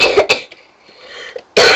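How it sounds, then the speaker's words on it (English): A person coughs, first in two sharp close bursts, then a softer throaty rasp with a small catch, and ends on one more loud hacking cough. "Sorry, still have a cough"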